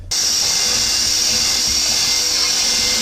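A power drill whirs loudly at high speed, starting abruptly and running steadily without pause, very close, during reassembly of a 16-valve turbo engine.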